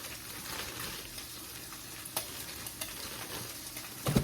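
Quiet frying sizzle from toast cooking on a skillet at breakfast, a faint steady hiss with a few light clicks and a louder clatter at the end.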